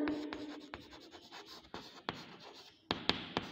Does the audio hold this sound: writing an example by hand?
yes